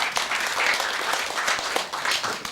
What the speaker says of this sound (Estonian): Teeme aplausid.